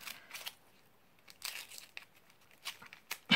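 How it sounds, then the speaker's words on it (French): Layers of wrapping paper being torn and crumpled off an Advent calendar, in close, irregular bursts of crinkling and ripping separated by brief quiet gaps. "T'as mis combien d'épaisseur de papier, Fifi?"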